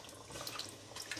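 Water pours into a cooking pot for chicken biryani, a brief continuous splashing stream heard close and fairly quiet, with no talk.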